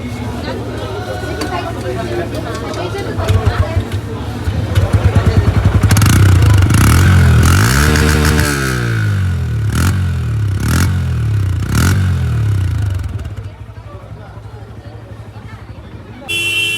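A Honda CB 125 motorcycle engine idles and then revs up and down in several sharp swells close by, then settles back to a lower idle, with people talking over it.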